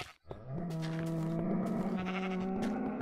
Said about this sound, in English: I'm pretty sure there were more sheep.